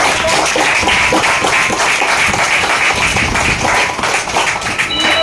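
Loud, sustained applause in a training session for the trainer, a steady wash of many hands clapping at even volume for several seconds with no break.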